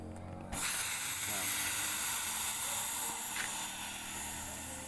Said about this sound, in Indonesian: Angin keluar dari botol infus dan ini menjadi lembek.